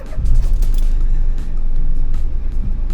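A learner's car engine idles and rumbles steadily at close range while stopped with the handbrake on for a hill start, with no distinct cranking burst, just a continuous low drone throughout.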